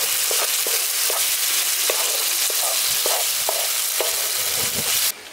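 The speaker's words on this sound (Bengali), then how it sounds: "এখানে মশলাটা খুব ভালো করে কষিয়ে নিয়েছি" Spice masala for a vegetarian pumpkin curry fries in a pan, a steady loud sizzle punctuated by regular scraping stirs, with no talk.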